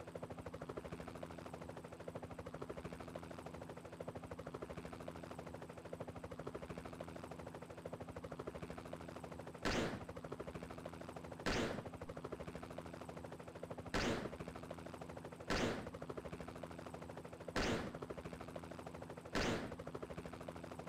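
Gunshots in RollerCoaster Tycoon 3 fire in about six sharp single reports at irregular intervals over a steady mechanical hum.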